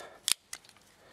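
Scissors snip through wires in two quick, crisp cuts, the first louder, close up in a quiet room.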